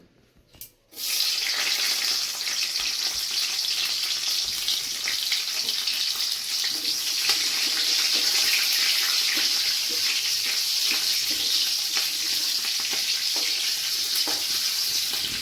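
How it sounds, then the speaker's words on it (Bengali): Green chillies fry in a generous amount of hot oil, a loud, continuous hissing sizzle that bursts in after a second of near silence and holds steady to the end, with no talking. "লঙ্কাগুলো এইভাবে একটু ভেজে ভেজে আমি কয়েকটা তুলে নিলাম"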